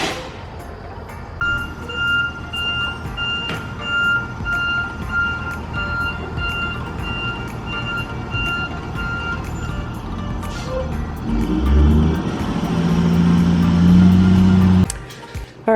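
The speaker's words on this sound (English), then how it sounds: "The bus is here." A school bus arrives on a street: a vehicle engine rumbles and grows louder, with repeated beeping tones over the traffic noise and a heavy low-pitched surge as it pulls up close.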